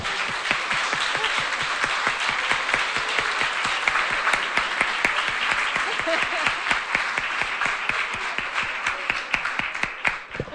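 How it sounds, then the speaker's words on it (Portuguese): Applause for everyone at a Spiritist group's televised gathering, a crisp, rapid stream of many hands clapping that holds steady and loud throughout. "E palmas para todo mundo."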